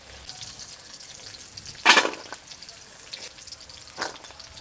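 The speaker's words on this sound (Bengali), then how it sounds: "দেখুন চিংড়ি মাছটা একদম শক্ত করে ভেজে নিয়েছি, একটু মাছের মধ্যে রস নেই" Prawns frying in hot oil in a village kitchen, a faint steady sizzle with one sharper crackling burst and a smaller flare shortly after.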